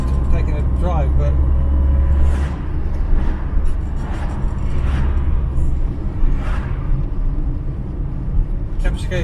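An Austin Allegro drives along the road on a Sunday outing, its engine and road noise forming a steady, loud rumble from inside the car throughout.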